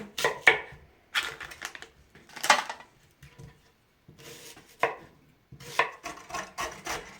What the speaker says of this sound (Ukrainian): Поставлю ближче каструлю, буду нарізати цибулю. Кубиком.